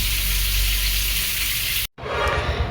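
Pointed gourd frying in oil in a pan with grated tomato and whole cumin: a steady, close hiss and crackle that breaks off abruptly for a moment and then resumes slightly softer.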